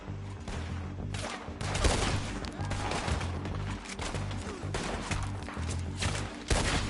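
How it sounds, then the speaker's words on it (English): Gunfire in Red Dead Redemption 2 crackles in rapid, irregular bursts during a close shootout, sharp repeated shots layered over a steady low rumble of game ambience. "Told you I could shoot a gun, didn't I?"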